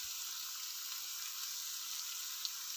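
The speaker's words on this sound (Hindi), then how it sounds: "अब हमें इसे थोड़ी देर अच्छे से गरम तेल में फ्राई कर लेना है।" Onion, beans, green, yellow and red bell peppers and red cabbage fry in hot oil, giving a steady, even sizzle with a faint crackle throughout and one small pop near the end.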